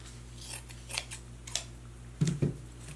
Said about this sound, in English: what I love to do is just to cut a whole, just a section off